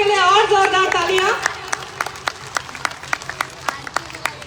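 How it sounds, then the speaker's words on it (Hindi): Audience at a Ramlila performance clapping for a guest, scattered claps ringing out after a burst of voices, thinning to irregular individual claps. "तो एक बार हमारे अतिथि के लिए और जोरदार तालियां"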